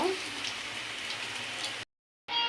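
Lentil and prawn fritters frying in oil, giving a steady, close hiss of bubbling like light rain that cuts out briefly near the end and then resumes.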